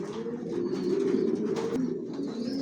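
Racing pigeons of the Johnson long-distance line coo in a loft. The low throaty cooing is steady and close and overlaps from several birds, with faint chirps and rustling above it and no voices.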